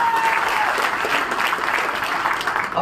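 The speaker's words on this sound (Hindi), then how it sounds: "ताली बजाओगे" Audience applause at a live event with a Rajya Sabha MP from Rewa, a steady broadband clapping from a crowd that holds loud and dense for nearly three seconds.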